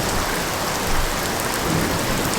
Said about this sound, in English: Let's check out this storm